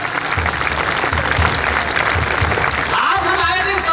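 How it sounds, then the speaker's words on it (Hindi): Audience at a patriotic Hindi poetry recital breaking into dense, continuous applause, loud and close, with a brief shift near the end as the clapping thins. "तालियां कमजोर हैं आपकी।"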